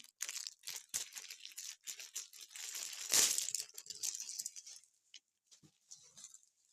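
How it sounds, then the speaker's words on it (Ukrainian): Diamond painting kit being unpacked from its plastic packaging, with steady crinkling and crumpling of wrap, a sharp tearing burst near the middle, then sparser rustles fading out; close and moderately loud, no talking. "І я зараз буду розпаковувати ось таку гарну картинку."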